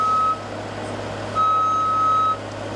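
A JLG scissor lift backs up while its travel alarm beeps twice, one short tone and then a longer one, steady and clear above a low machine hum.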